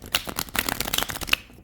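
Tarot deck of US Games cardstock being shuffled by hand, a steady run of riffling, fluttering card noise across the whole moment, close and clear with no talking.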